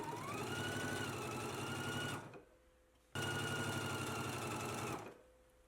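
A sewing machine stitches with a twin needle in two steady, rapid mechanical runs of about two seconds each, separated by a short pause, the motor whirring evenly and then stopping abruptly.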